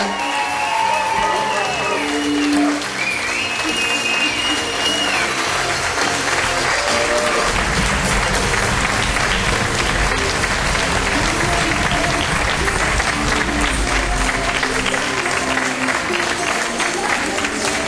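A wedding reception crowd applauds the newlyweds with loud, continuous clapping mixed with cheers and a few whoops, music tones audible early on under the sustained ovation.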